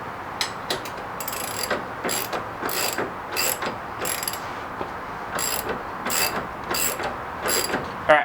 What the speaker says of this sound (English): so time to torque the bolts here